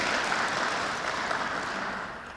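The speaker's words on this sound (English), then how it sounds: "we're going to clap for her to bring her presence here" An outdoor crowd at a Black History Month flag raising ceremony claps in a steady, fairly faint wash of applause that fades slightly over two seconds.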